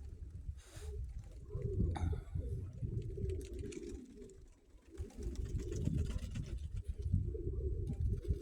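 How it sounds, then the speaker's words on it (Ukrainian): Low, soft cooing from several pigeons continues steadily, with faint rustling and a brief higher chirp early on. "Такі голуби села Високого."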